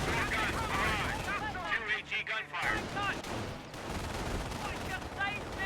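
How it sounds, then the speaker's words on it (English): Rapid barrage from British 25-pounder artillery guns in Company of Heroes: dense, continuous booming and cracking fire, loud and sustained throughout, with a voice talking over it. "Get those 25-pounders firing"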